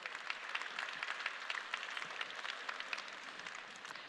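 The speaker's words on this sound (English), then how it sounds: "Would you give them a round of applause for me" A dense wash of audience applause at a CPAC Poland gathering, moderately loud and steady throughout, with no voices over it.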